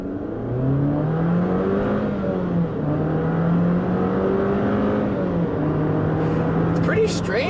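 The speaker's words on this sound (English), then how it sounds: "Let's do an acceleration here." A 2019 Jeep Compass engine revs up under acceleration, a steady rising drone climbing in pitch with a dip at a gear shift, loud and close throughout.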